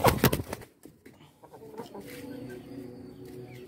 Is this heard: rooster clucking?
yes